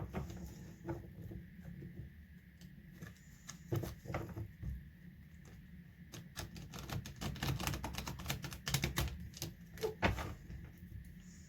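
Tarot cards shuffled close by, a rapid run of crisp papery clicks and flicks that grows busier and denser toward the end.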